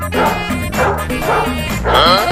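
A dog gives loud, close barks and yips in a quick, uneven series during a Tamil comedy scene, with strong, overlapping calls filling the short stretch.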